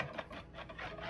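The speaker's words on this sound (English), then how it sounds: "Whisk it up." An egg whisked with vanilla, cinnamon, cayenne and ginger for a Mexican hot chocolate pie filling gives quick, close scraping strokes in a rapid, steady rhythm, quiet and without speech.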